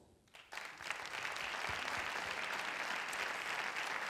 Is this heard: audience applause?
yes